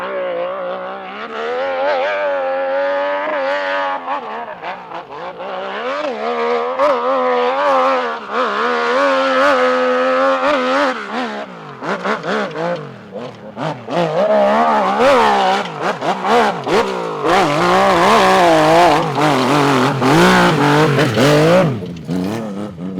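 A Yamaha YZ850 dirt bike engine revs and climbs through gears while being ridden, loud and close, rising and falling in pitch with throttle blips and brief drops between bursts for the whole stretch.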